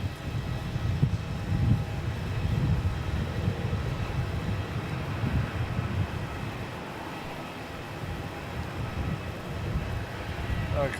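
A Qatar Airways Boeing 787 Dreamliner lines up on the runway at Melbourne Airport, heard as a distant, steady low jet rumble mixed with wind buffeting the microphone.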